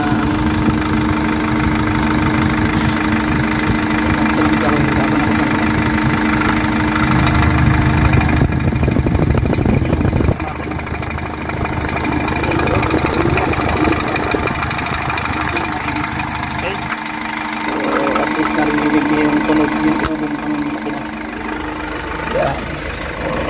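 A Hyundai H100 van engine idles steadily nearby with a continuous low rumble and slight knocking texture, its tone shifting a few times as it runs, with someone speaking over parts of it.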